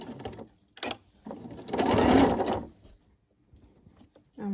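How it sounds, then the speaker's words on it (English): A sewing machine stitches through three layers of fabric for a lined glasses case: a short, close, even whirring run of about a second, set between quiet handling noises. "I'm going to backstitch here, stitch all the way to the other side, backstitch here, and do a little stitch in here as well."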